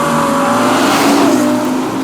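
A Ferrari Purosangue SUV with a naturally aspirated 6.5-litre V12 revs loud and close, a continuous rising engine howl with no speech over it.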